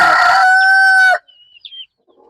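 A backyard rooster on a country poultry farm lets out one loud, close crow lasting about a second, then fades to scattered faint clucks and chirps from nearby hens.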